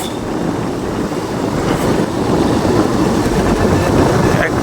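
A scooter engine rumbles continuously as the scooter is ridden uphill on a village hill road, with steady low drone and wind noise growing slightly louder, no talk audible.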